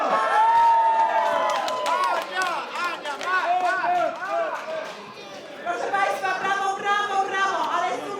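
Crowd of guests cheering, whooping and clapping at a Polish community charity auction for the Great Orchestra of Christmas Charity on Long Island, a loud, dense and continuous roar with voices mixed throughout.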